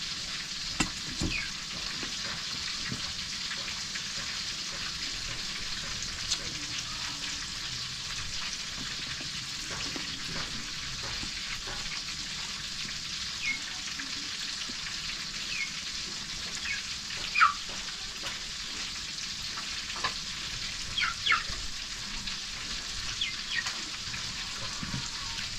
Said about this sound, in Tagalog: tapos na tayo nag-prito